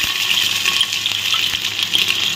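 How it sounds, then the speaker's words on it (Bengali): Vegetables go into a hot cooking pot, producing a loud close sizzle and frying hiss with stirring, steady throughout and heard without any talking. "সবজিটা দিয়ে দিই।"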